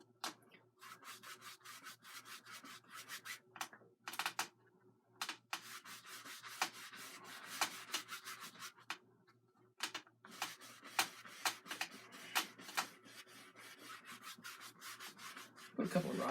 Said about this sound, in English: I'm putting this on with a 1-inch brush, this little finer grass here.